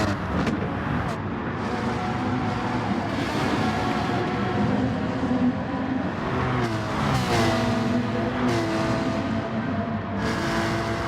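Race cars lap Bathurst in a racing video game, a dense steady roar of several engines with rising and falling revs and whooshes as cars pass, loud throughout with no talking.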